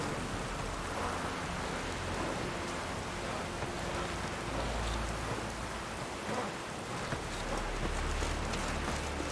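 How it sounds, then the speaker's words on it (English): Steady heavy rainfall in the video game The Witcher 3: Wild Hunt, a dense continuous hiss with low rumbling undertones suggesting distant thunder, with no talking. "Rain's back again."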